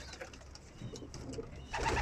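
Soft, low coos of homing pigeons close by, repeated gently over faint background noise.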